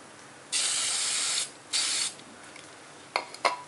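Spray paint hisses from a can onto the front of a model in two longer bursts, the first about a second, then a shorter one, followed by a few quick short spurts, close and fairly loud.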